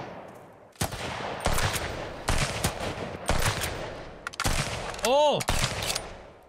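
Gunfire in the video game Sunkenland comes as several sharp bursts of rapid automatic fire with brief gaps between them. A voice exclaims once, and a short rising whistle-like tone sounds near the end.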